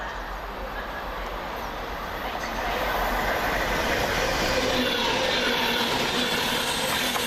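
An Arriva Trains Wales service rounds a curve into Smethwick Galton Bridge. A steady rumble of wheels on rail swells as the train draws closer, with faint squeal and clatter.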